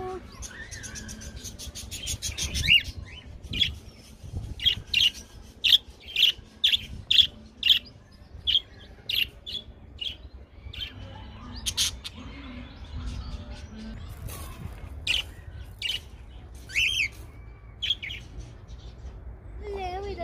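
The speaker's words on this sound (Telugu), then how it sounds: "మనం కొన్ని బర్డ్స్ చూద్దాము." Small birds chirp in short, sharp bursts at irregular intervals, fairly close, on a countryside farm near London, with quiet voices and low background murmur underneath.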